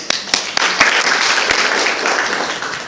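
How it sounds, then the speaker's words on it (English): An audience at a teachers' workshop in an engineering college gives a speaker a round of applause, a few sharp early claps swelling into steady, even clapping from a roomful of people. "Give him a big clap"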